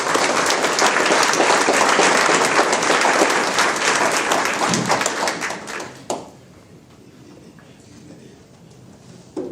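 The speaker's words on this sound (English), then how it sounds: "Everybody please give a big round of applause for our chair" A community audience at a Minneapolis public safety meeting applauds their chair, Pastor Ian Bethel, with dense, loud clapping that fills the room for about six seconds before cutting off sharply, leaving quiet room tone.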